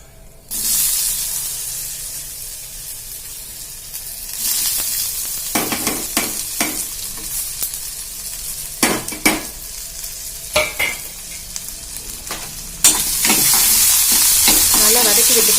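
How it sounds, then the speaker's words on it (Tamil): Potatoes with curry leaves sautéing in a pan, a loud steady sizzle broken by repeated scraping stir strokes, with the frying hiss surging louder near the end. "நல்லா வதக்கி விட்டுக்கோங்க"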